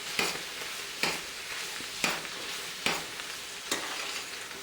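Leftover pulled pork sizzling in a buttered pan, a continuous close hiss broken by five evenly spaced scraping stirs, with no voices.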